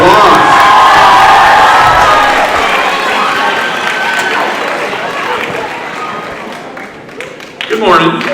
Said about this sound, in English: let's give Mr. Cox a round of applause